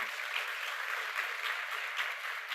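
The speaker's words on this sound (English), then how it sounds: "let's give her a hand, a round of applause." Audience applause at a Black Scholars Day university event, a quiet, even patter of clapping heard from a distance and holding steady for a few seconds.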